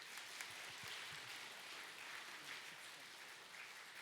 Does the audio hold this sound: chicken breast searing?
no